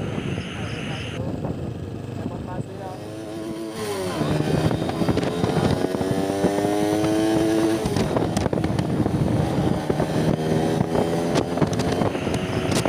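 A Yamaha R15 V4 motorcycle rides along a highway, its engine droning with rising and falling tones under heavy wind buffeting on the microphone, steady and close.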